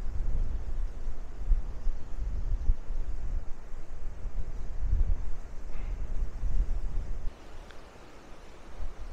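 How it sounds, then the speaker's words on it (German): Strong wind roars and gusts on a beach at Maspalomas, Gran Canaria, blowing sand, with a broad rushing hiss and buffeting against the microphone, easing slightly near the end. "Schaut euch an, wie der Sand hier weht."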